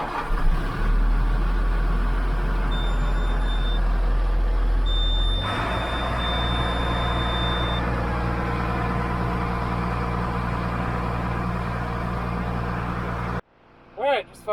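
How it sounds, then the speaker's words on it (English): A tractor engine starts up and runs steadily at a low, droning idle, loud and close, with a brief high whine early on, before cutting off near the end. "just fired up the tractor"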